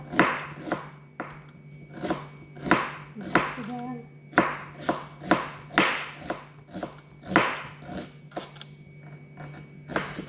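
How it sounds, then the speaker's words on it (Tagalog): Onion being chopped on a board, a series of sharp, close knife strikes in an irregular rhythm, heard alone without talk. "New style ng paghiwa ng ano, ng sibuyas nakapikit yung mata."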